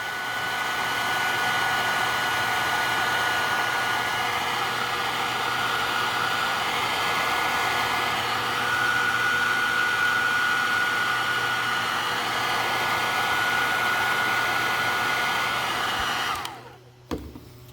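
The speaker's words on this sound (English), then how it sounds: "go ahead and grab a heat gun" A heat gun blows hot air to shrink heat-shrink tubing over two soldered wires, a loud, steady roar like a hair dryer that runs unbroken for about sixteen seconds, then cuts off abruptly.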